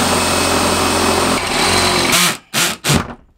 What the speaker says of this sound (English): inside the van, and drill a bigger hole